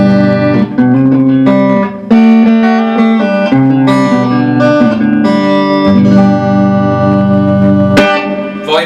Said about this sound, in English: this is just a nice clean. It's got a little bit of the amp reverb on